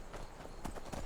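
Horse hooves clip-clopping in the video game Skyrim, a few soft, irregular steps in quick succession over a steady game ambience.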